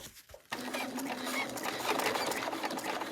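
A sewing machine stitches through a bulky fabric bag, starting abruptly after a short quiet pause and running in a steady, close, continuous mechanical chatter.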